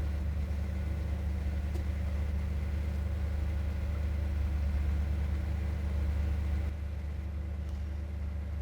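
The engine of a 1958 Ford Fairlane 500 Skyliner retractable hardtop idles with a steady low rumble while the roof mechanism runs. A constant mechanical hum stays close and even throughout, dipping slightly near the end.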